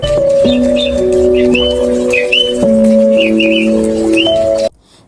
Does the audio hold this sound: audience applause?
no